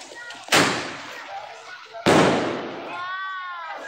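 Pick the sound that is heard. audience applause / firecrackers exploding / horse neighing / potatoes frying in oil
firecrackers exploding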